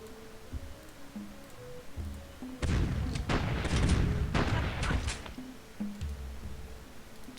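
U.S. artillery firing in the World War 2 scenario of Civilization III, a burst of several loud booming shots in quick succession over quiet game music, then fading back to the music.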